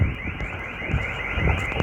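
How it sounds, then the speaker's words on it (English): A car alarm set off by monkeys in a parking lot in India, wailing loudly and continuously with a repeating electronic siren tone, with no talking. "Those monkeys actually made the alarm work here."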